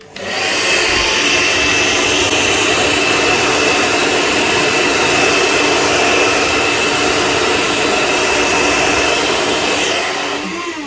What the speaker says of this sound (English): Let me go to blow dry it